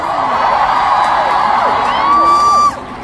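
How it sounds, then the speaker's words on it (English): A large crowd at a fan concert in Manila cheers and whoops loudly with rising shouts and squeals, sustained for a few seconds before cutting off abruptly. "Let's give a round of applause."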